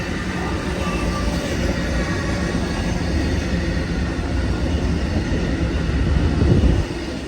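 An Amtrak Auto Train, a long auto-rack passenger train, rumbles past steadily with a dense, continuous roar of wheels and cars, loud and close, swelling slightly near the end before easing off.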